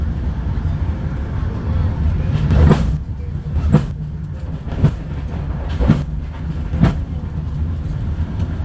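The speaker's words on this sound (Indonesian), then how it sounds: "kondisi kereta saat ini cukup normal dan aman untuk melakukan perjalanan" KA Rajabasa economy-class passenger train rolling along the line, heard from inside the carriage as a loud, steady rumble with a regular clickety-clack of wheels over rail joints about once a second.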